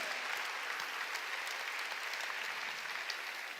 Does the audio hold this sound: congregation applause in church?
yes